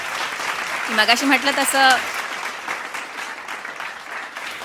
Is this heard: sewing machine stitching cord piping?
no